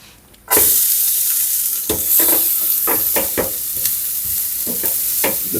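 Chopped onion hits a hot pan and sizzles loudly and steadily as the aromatic base for a creamy Paris and shiitake mushroom risotto, with intermittent scraping and stirring clicks from a utensil and no talking.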